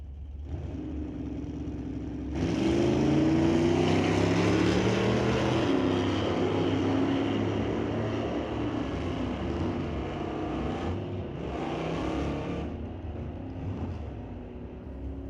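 Drag racing cars accelerate down the strip at an NHRA Division 6 test-and-tune session at Mission Raceway Park, a loud sustained engine roar rising in pitch as they pass, with a second surge near the end.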